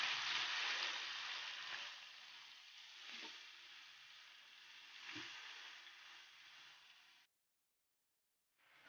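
Chicken thighs for coconut-milk adobo sizzle loudly in a hot pan as soy sauce is poured in, a steady broadband frying hiss with a few stirring knocks, cutting out abruptly near the end.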